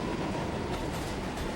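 Elevated subway train passing in Brooklyn, New York, a loud, continuous rumbling roar of wheels on rails with no pauses and no voices.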